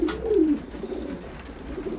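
Racing pigeons coo in a short, close call that slides in pitch near the start, then a soft murmur of birds continues at a loft during race arrivals.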